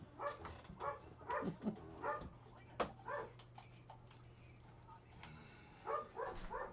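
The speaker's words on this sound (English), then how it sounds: "He's got the dogs all worked up." Several dogs barking in short bursts during a live morning radio show broadcast, the barks moderately near and spaced irregularly over a low steady hum, with brief pauses between clusters.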